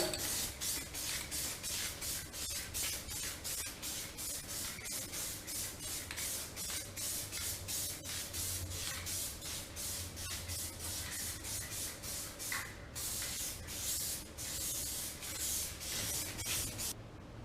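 A spray gun lays a base colour coat onto a car panel during a home paint repair, a close, even hiss pulsing in rapid regular passes throughout, with a brief pause near the end and no talking.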